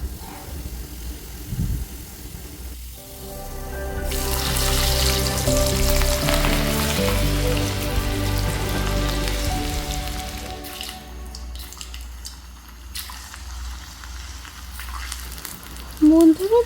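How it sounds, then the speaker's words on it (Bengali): Carrots fry slowly in a pan over a low gas flame, giving a steady soft sizzle and crackle like light rain that stays moderate throughout, with occasional clinks and no one talking. "আস্তে আস্তে গাজরগুলোকে ভাজতে দেব, সেদ্ধ হতে দেবো"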